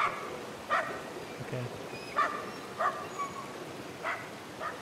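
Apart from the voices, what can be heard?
dog barking in the video game Somerville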